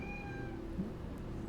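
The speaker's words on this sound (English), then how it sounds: "My cat just like meowed so loud." A house cat gives a single meow partway through, set against a low steady room hum, fairly faint and brief.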